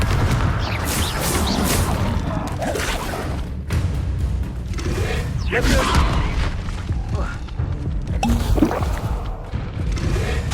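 Fiery Confringo blast spells in the video game Hogwarts Legacy, heard as repeated booming, whooshing bursts in a dense, loud combat mix over continuous rumbling game sound.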